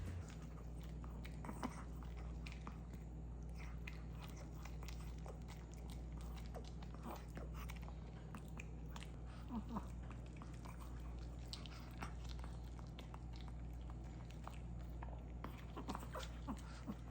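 A tiny Chihuahua named Maya eats her morning egg indoors, giving soft, repeated close-up chewing and licking sounds against a steady low household hum, with light taps of paws throughout.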